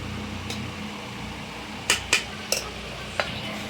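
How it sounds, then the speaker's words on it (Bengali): Rice being served onto plates for a family lunch at home: a few sharp clinks of a serving spoon against dishes, scattered and close, over a low steady background hum. "সবাইকে ভাত বেড়ে দিচ্ছি।"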